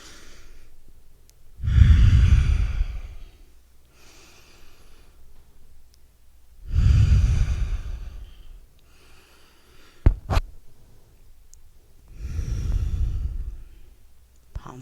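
Deep breathing during a chair yoga class: three long, slow, loud breaths spaced several seconds apart, close to the microphone, with a brief click between the second and third.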